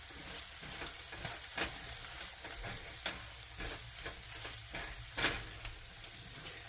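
Channa masala sizzling in a pan, a steady frying hiss broken by soft scraping stirs as it is mixed, fairly quiet and close.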